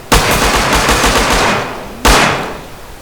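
Loud, close automatic gunfire in the online survival game Rust crackles in a rapid sustained burst, then a second burst after a brief pause, with no talk over it.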